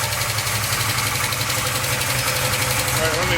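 A 350SS engine idles steadily right after a small carburetor adjustment, giving a loud, close, continuous rumble with an even pulsing throb that holds throughout, with no talk over it.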